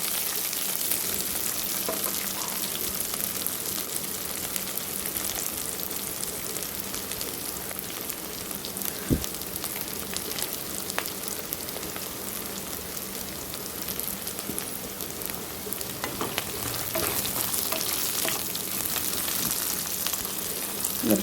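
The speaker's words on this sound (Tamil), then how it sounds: "நல்லா வெங்காயம் நல்லா பொன்னிறமாக வதங்கி வந்திருக்கும்" Onions frying in oil until golden for a Tamil chicken curry, a steady dense sizzle filling the pan throughout with a few faint stirring clicks, close and continuous.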